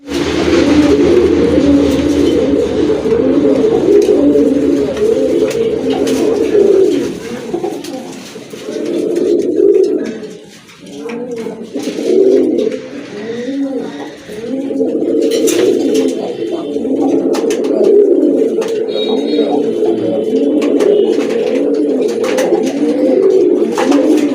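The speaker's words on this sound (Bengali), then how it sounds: "দেখেন আরেক জোড়া কবুতর, গিরিবাজ কবুতর" Giribaz pigeons coo loudly and continuously in deep, throaty rolling bursts up close, the calls dipping briefly in the middle before resuming in a dense, overlapping chorus with faint background clatter.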